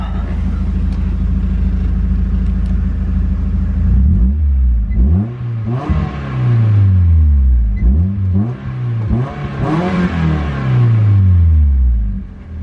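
Small sports car with a six-speed manual and limited-slip differential, engine idling then revving hard in several loud, rising bursts close by, each rev climbing and falling back, with no talk.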